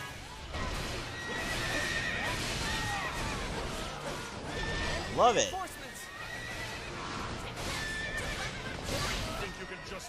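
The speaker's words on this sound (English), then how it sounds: "God, it's so much neighing." Horses neighing repeatedly in the video game Fire Emblem Warriors during a battle, loud whinnies over clip-clopping hooves and clashing, while someone talks over the action.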